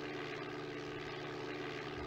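A propeller airplane engine in the Flight Simulator video game drones in a steady, continuous hum with no breaks, moderately loud and even throughout, with no talking.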